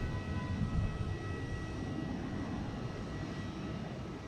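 A United Airlines Boeing 737 jet at Boston Logan International Airport, heard as a steady broadband roar with a low rumble, swelling slightly early on and then holding level at a moderate distance, with no voices.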